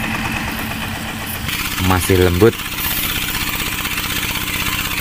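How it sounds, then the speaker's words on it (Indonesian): Engine of a machine at a gold mining site in Kalimantan, running loud and steady throughout with a rough exhaust note, briefly swelling midway, while someone talks over it. "berisik suara mesin guys"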